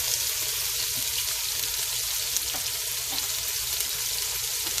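Jamaican curry goat seasoning sautés in a hot pan with a steady, loud, even sizzle and faint stirring scrapes, with no talking.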